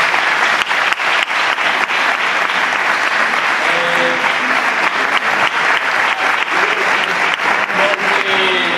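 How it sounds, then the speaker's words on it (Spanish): Loud, dense applause from a crowd at a carnival proclamation in Ciudad Real, sustained throughout with a few voices calling out faintly beneath the clapping. "Un aplauso para ellos, por favor."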